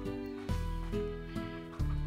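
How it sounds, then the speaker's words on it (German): Chickens and a rooster cluck in the video game Slime Rancher, with several close, repeated clucks and calls at an uneven rhythm and no talk. "das Steinhuhn kommt hier rein und der Gockel auch"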